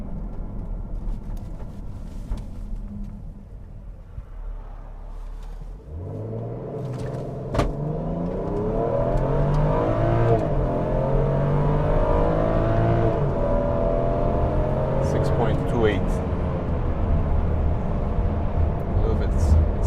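A 2013 BMW X5 xDrive35i with 145,000 miles launches in a 0-60 mph run, its engine note rising steadily from a low idle rumble into a sustained, building acceleration drone heard from inside the cabin.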